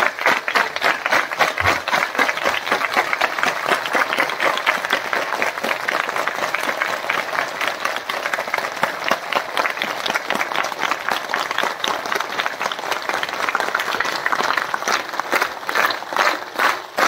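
A crowd at a Marathi religious festival with a Ramayana discourse claps continuously in a fast, steady rhythm, dense and loud throughout with no pauses.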